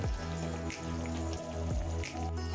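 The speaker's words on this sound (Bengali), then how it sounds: "এখন 4-5 মিনিট লো ফ্লেমে মাছ ফুটিয়ে নেব।" Mourola fish curry bubbling gently over a low flame, giving a steady soft wet bubbling with light irregular drips and pops, close and even, with no voices.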